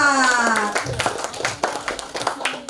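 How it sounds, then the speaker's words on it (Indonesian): A classroom of students claps for a student group after its math presentation. A voice is heard briefly at the start, then a quick run of sharp, close hand claps follows, loose and uneven. "Tepuk tangan dulu untuk kelompok 4."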